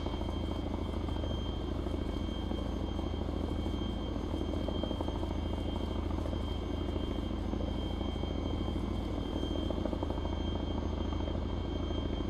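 A military helicopter in the video game ARMA 3 drones steadily nearby, its rotor and engine making a constant, loud, rumbling wash with a faint chopping texture that holds throughout.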